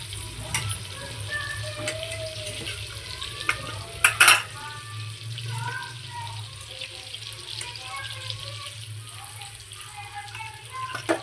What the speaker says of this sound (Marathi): बटर व्यवस्थित हलवून घ्यायचं.